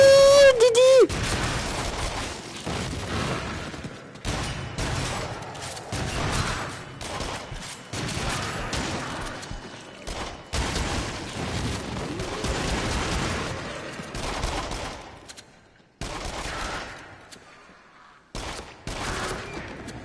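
Gunfire from a weapon in a horror video game, bursts of rapid shots in repeated volleys separated by brief pauses, with people talking throughout.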